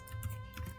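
A command is typed on a computer keyboard while setting up a Debian 10 mail server, producing a short burst of a few quick, close key clicks over faint background hum.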